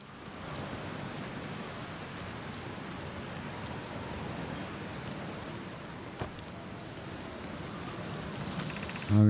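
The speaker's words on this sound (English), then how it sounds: "it's in a cyclone, so it's going to be almost like it's constantly being bombarded by rain" Steady rain pouring on a cyclone planet in the video game Outer Wilds, a dense, constant hiss that holds evenly throughout with no talking.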